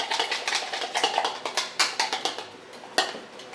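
Hair dye and peroxide being mixed in a bowl, a rapid series of close, crisp clicking and scraping strokes from a brush or spatula against the bowl, rhythmic and steady for a few seconds.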